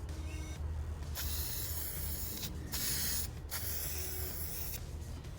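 Silver spray paint hissing from an aerosol can in several bursts of varying length, close and steady, with short pauses between passes and no talking.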